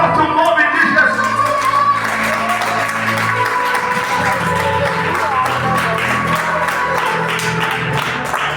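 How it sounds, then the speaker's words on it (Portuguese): A church congregation claps loudly and continuously, a dense roar of hands mixed with crowd noise and a few shouts, with musical tones sustained underneath. "aplauda bem forte o nome de Jesus"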